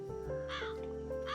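Crow cawing in the video game Calico, a harsh rising call over a steady musical background, repeated twice within a short moment.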